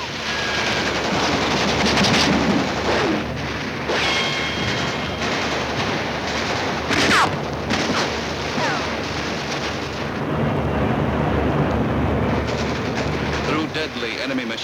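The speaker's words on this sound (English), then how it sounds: "Through deadly enemy machine gun and mortar fire, the troops waded through deep water to the shore." Machine gun and mortar fire during a WWII beach landing, a dense, continuous roar of battle noise with sharp bursts standing out, loud throughout, as troops wade ashore from landing craft.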